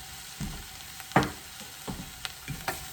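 Onions cook with a pinch of sugar for French onion soup, giving a close, steady sizzle punctuated by several sharp stirring scrapes and clacks, with no voices.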